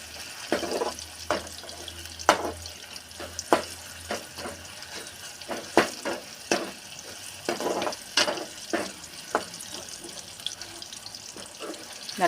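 Snake gourd seeds fry in hot oil, giving soft crackling pops and sizzles at an irregular pace, fairly quiet and close.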